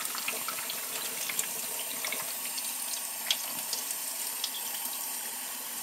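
Water runs steadily through the ink hoses of a sublimation printer's continuous ink supply system, rinsing out leftover ink, with a soft hiss and occasional small splashes and drips, close by, with no talking.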